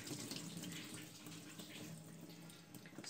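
Tap water runs into a kitchen sink as chicken gizzards are rinsed. A continuous, close splashing rush holds steady throughout, with no talking.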